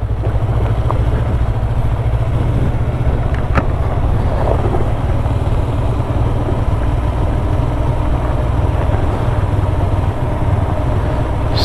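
Vehicle rolling downhill on engine braking over a gravel road near Cascalho in rural Bahia, Brazil, giving a steady loud low drone with heavy wind rumble, continuous throughout with no talk.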